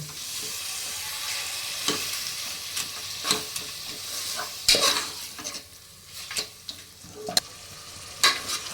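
Minced mutton keema frying in a pan while being stirred, with a steady sizzle and repeated scraping strokes of a spoon against the pan, close and clear with no talk.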